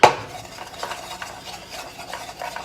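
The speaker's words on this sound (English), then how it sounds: "I want to be able to stir it around just a little bit" Nuts being stirred in a pan coated with concentrated lemon essential oil, giving a steady soft scraping and rustling with faint sizzle, close and continuous after a sharper opening scrape, with no talking.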